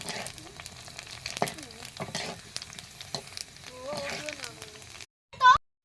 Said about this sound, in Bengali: ওই যে ফুচকা ভাজা হচ্ছে